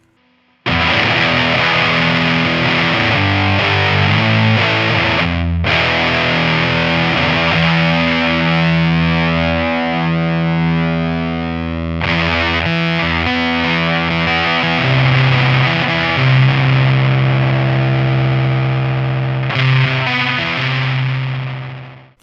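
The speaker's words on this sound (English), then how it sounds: "that's where you can get those really rich sort of vintage classic fuzz sounds" An electric guitar through a Whitman Audio Wave Collapse germanium fuzz pedal plays loud, thick, distorted sustained chords and notes, in several long ringing phrases separated by brief breaks.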